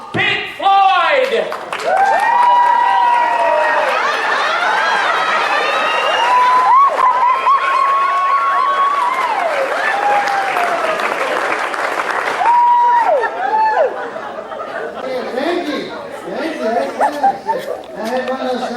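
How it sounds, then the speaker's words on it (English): A live audience bursts into loud, sustained applause and cheering for a performer being brought on stage at a singing show, with whoops and shouted voices rising over the clapping throughout. "Bring him on with a big round of applause"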